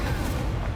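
Incendio fire spell cast during a duelling club bout in Hogwarts Legacy, a brief, dense whooshing roar with a booming low body, loud and sustained across the short burst.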